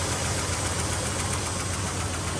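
A 1971 Dodge Super Bee V8 idles close by, a loud, steady rumble with an even, throbbing pulse and a broad wash of mechanical noise filling the whole stretch.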